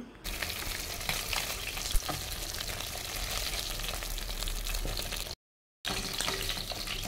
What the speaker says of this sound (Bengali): এখন আমার মাছ ভাজা শেষ হয়ে গিয়েছে, আর আমি সব মাছ ভেজে নিয়েছি